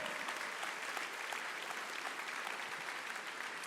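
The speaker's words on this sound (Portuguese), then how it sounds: "aplauda ao Senhor" A church congregation applauds during a Portuguese-language sermon, a steady, even wash of many hands clapping at moderate distance with no break, with faint voices underneath.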